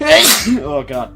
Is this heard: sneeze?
yes